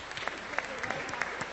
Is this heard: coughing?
no